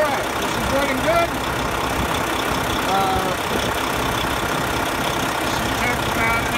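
A truck engine idles steadily after an oil filter change, a low, even rumble running throughout at moderate level, with a few faint squeaks and a voice speaking over it.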